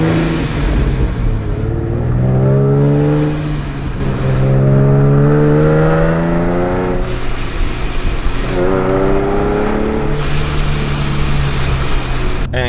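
A V6 Mustang running E85 with raised boost pulls away, its engine revving up through several gears in rising sweeps with brief dips at each shift, loud and close throughout.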